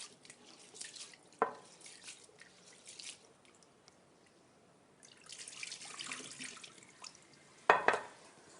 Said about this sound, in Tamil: இப்போ நம்ம ரைஸை கழுவிடலாம்.